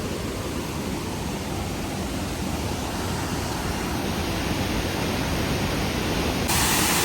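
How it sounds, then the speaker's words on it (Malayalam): Thusharagiri Waterfalls gives off a steady, loud, broadband rush of falling water that stays even and unbroken throughout, with no voices. "ഇതാണ് തുഷാരഗിരി വാട്ടർഫോൾസ്."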